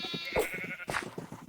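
Sheep in Minecraft bleat in short, wavering calls, two distinct bleats over faint background noise, with no voices present.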